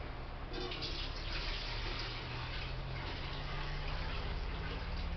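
Water from a home fish tank pours into a pot, a soft continuous trickling splash over a low steady hum, fairly quiet and even throughout.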